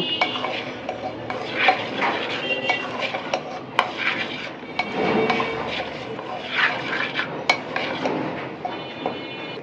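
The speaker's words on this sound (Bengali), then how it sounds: "সামান্য একটু তেল দেব যাতে হলুদের গন্ধটা না থাকে। ভালোভাবে নেড়ে নেব" Fish heads with spices, salt, a little oil and chickpea lentils being stirred in a pot: irregular scraping and metallic clinks of a spoon against the pan over a soft background sizzle, close and fairly loud.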